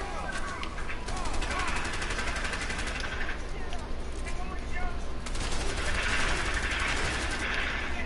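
Gunfire from a firefight in A Way Out, with shotgun blasts among it: dense, loud shooting continues throughout as voices call out over the noise.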